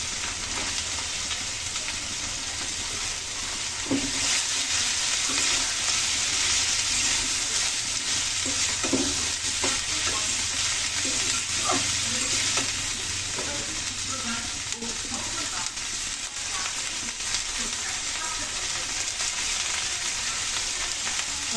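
Cabbage stir-fried in a pan, giving a continuous hissing sizzle with irregular scraping and clinking as the spoon turns it, steady and close for the whole stretch with no voices.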